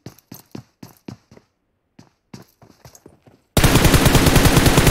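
Rapid automatic gunfire from the PUBG Mobile battle royale game, first in short separated bursts of shots with pauses, then a sudden loud, continuous stream of fire at the end.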